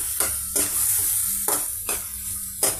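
Chopped onions and green chillies sizzle in a hot pan, with a steady frying hiss broken by periodic scraping stirs of a spatula, close and clear.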